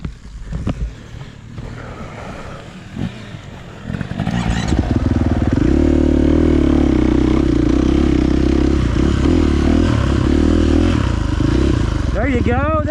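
A KTM SX E5 electric dirt bike stuck in mud strains and whines loudly as throttle is applied, rising into a steady sustained drone after a few seconds of quieter scraping and clatter, with people talking nearby.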